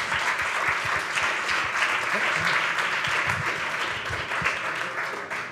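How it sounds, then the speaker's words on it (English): Sustained applause from an audience at a community planning talk, a dense, steady wash of many hands clapping that carries on for several seconds, with faint voices beneath it. "Oh, so you're going to start clapping in the back already."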